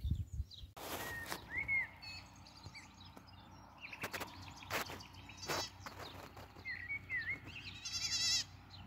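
Goats bleat several times in quick, wavering calls, fairly close, with birds chirping and rustling sounds in an outdoor setting; no talking.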